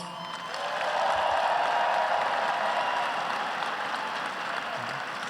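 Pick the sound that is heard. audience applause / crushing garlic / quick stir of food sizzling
audience applause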